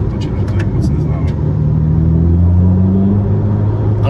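A Ferrari SF90 Assetto Fiorano hybrid supercar drives with a loud, steady interior engine rumble whose low drone rises slightly as it accelerates, with people talking over it.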